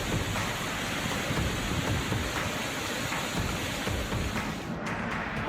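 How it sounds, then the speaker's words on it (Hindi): Torrential monsoon rain pours down in Kolhapur, Maharashtra, a dense, loud, unbroken hiss of heavy rainfall striking surfaces, with a deep low rumble underneath and no voices. "मूसलाधार बारिश बनी आफत।"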